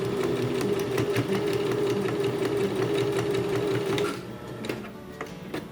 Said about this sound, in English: Pivot one more time, sew down the last seam.